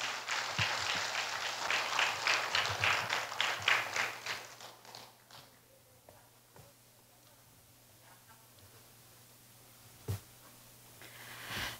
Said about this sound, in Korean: 김지현 선생님을 뜨거운 박수로 맞으시기 부탁드리겠습니다